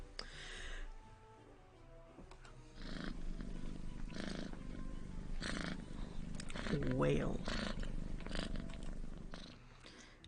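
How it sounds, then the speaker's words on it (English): A stray cat purrs loudly while being petted, a low, steady rumble running beneath intermittent talk from people nearby. "He's petting the stray while the cat continues to purr loudly."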